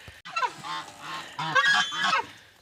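A goose honks in a few loud, nasal bursts close by, the calls coming in quick clusters with short pauses between.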